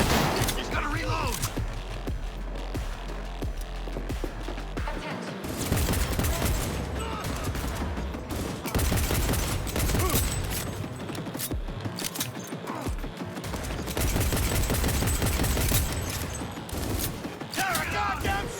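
Sustained automatic gunfire in the video game Cyberpunk 2077, loud dense bursts running nearly unbroken with short gaps, under excited talk.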